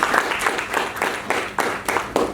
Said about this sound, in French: On fait un applaudissement pour Joël.